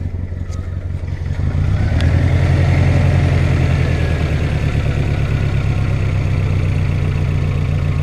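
A Suzuki X90 engine with a rough idle that smoked on startup turns over and settles into a loud, uneven, pulsing idle, heard up close for several seconds with no voices.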